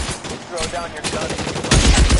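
Rapid gunfire in a shootout in the crime video game L.A. Noire, bursts of shots cracking loudly and continuously with a heavier volley near the end, with faint voices mixed underneath.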